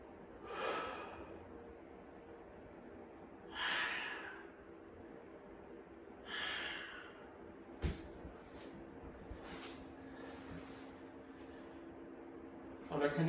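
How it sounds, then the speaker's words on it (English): Slow deep breaths during a yoga session, three long exhalations spaced a few seconds apart, soft and close, with faint room hum and a couple of small knocks afterward. "Let's take 3 final breaths."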